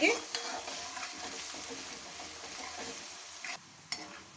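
Finely ground ginger and garlic frying in a pan for a dhaba-style aloo gobi, a steady dense sizzle with stirring scrapes and a few sharper clinks, close and continuous.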